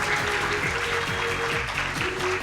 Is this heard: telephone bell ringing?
no